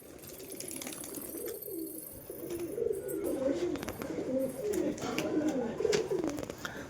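A pigeon coos in soft repeated low phrases, fairly close, over a quiet outdoor background with faint chirps.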